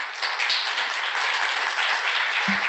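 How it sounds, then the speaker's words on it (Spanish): Steady audience applause at a Spanish-language community talk on artificial intelligence, dense continuous clapping filling the room at an even level with no pauses, close and fairly loud throughout. "Muchísimas gracias, un aplauso para..."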